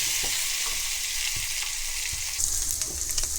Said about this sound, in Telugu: ఇది 3 స్పూన్లు ఆయిల్ వేసి ఈ రొయ్యలని తీసి కొద్దిగా వేయించుకుందాం.